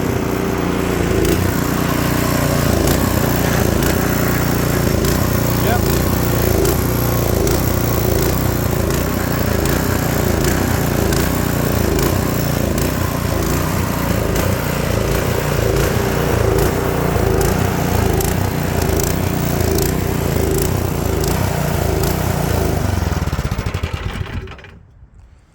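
A Craftsman snowblower engine runs loud and steady at close range with a continuous buzzing drone, then cuts out abruptly near the end.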